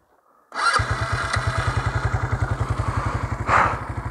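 An ATV engine roars to life and runs loud and close, with a fast, pulsing throb that rises briefly in a rev near the end.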